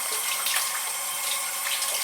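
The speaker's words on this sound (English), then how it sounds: "Now, also I like to rinse off the sausage." Tap water runs steadily over smoked sausage fresh from a smokehouse, rinsing it under a faucet during gumbo preparation; a continuous close splashing hiss with no talking.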